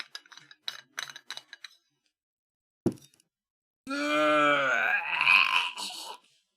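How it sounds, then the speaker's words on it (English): A person yawning close up, a long drawn-out groaning vocal yawn rising and then fading, preceded by faint clicks and brief murmurs. "that's my noise when I yawn"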